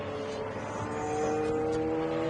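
A Ferrari race car on a circuit at a historic racing event drones steadily with a sustained engine tone that swells slightly as it passes, heard from a moderate distance with no one speaking.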